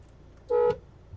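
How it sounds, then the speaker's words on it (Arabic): A car horn on an automatic car during a driving lesson gives a single short toot of about a quarter second, clear and close, against a quiet background with no talking. "اوفي واديله كلاكس."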